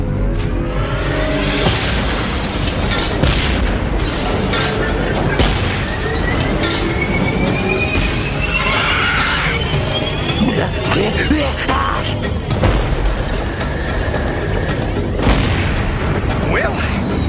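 Demolition charges blow apart a mountain in the Beast Wars cartoon: loud, dense booming and rumbling blasts run throughout, mixed with action effects and a voice speaking over the din.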